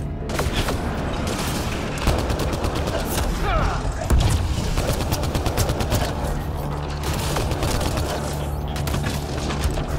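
Rapid gunfire from a sci-fi shooter, Mass Effect: Andromeda on PS4, in a Kett military zone, with bursts and thumps running dense and loud throughout, mixed with game effects.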